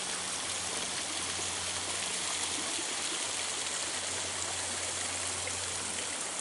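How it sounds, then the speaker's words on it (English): A waterfall pours into a flowing creek at a spring, a steady, dense rushing roar heard close and loud, unbroken and without any talking. "here we are at the waterfall"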